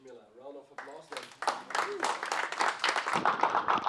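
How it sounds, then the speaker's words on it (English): An audience at a tech talk applauds the speaker Chamila, clapping swelling after a short spoken phrase and holding as a dense, moderately loud patter with voices mixed in. "Round of applause then."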